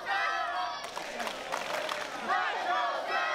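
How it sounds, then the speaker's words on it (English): Crowd at a CCW wrestling show rallying behind Sarah Summers, a steady roar of voices with shouts and scattered claps, loud and sustained throughout. "Crowd trying to rally behind Sarah Summers here"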